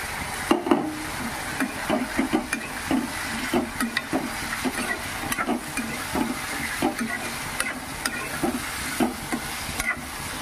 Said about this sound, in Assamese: পাঁচপন কেইটা ফুটাই মই ইয়াতে প্ৰথম অমিতাখিনি ভাজিম